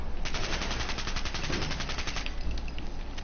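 Machine gun strafing in Fallout 4, a dense, rapid, sustained burst of loud gunfire rattling close by with no break for over three seconds.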